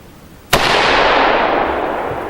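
A single sharp AR-15 rifle shot fired through a compact Dynamic Resistance muzzle brake, loud and close, with a long ringing decay after the blast.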